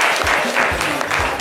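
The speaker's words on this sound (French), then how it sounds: "On peut l'applaudir très très fort." Audience applause in a French television studio show, a dense steady clapping of a crowd that fills the whole moment, loud and close, with faint voices mixed underneath.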